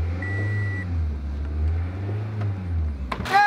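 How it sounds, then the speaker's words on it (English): A customer's car engine with a fuel pressure gauge hooked up runs at a steady low idle, swells through a couple of moderate revs, then ends with a brief high whine or beep. "Start it up. Give it a few revs."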